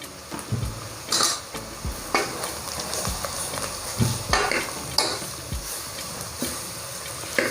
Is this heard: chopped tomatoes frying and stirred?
yes